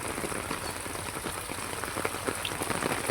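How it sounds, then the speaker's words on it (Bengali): Heavy rain falling steadily during a storm in a rural farming area, a dense, continuous close-up patter of drops striking surfaces without a break. "বৃষ্টি হচ্ছে 1 ঘন্টা ধরে।"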